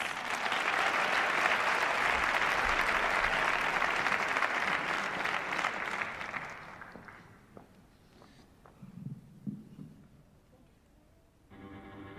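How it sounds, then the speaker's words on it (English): Audience applause at a multicultural graduation celebration as a singer takes the stage, loud and sustained for about six seconds before fading into scattered claps and quiet room noise, with faint footsteps and murmurs near the end. "Please give her a round of applause."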